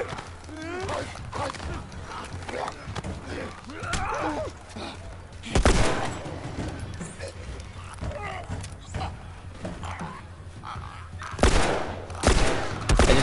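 Gunshots in The Last of Us, a few sharp bursts spaced out among quieter game sounds, heard under someone talking.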